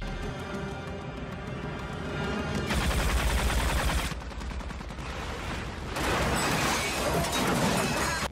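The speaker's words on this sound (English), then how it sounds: "This turret, which totally isn't a turret according to DE, is summoned by Protea" Protea's hovering turret in the Warframe video game fires in sustained bursts of rapid gunfire, loud and close, with brief shifts in intensity and a few crashing impacts, no voices.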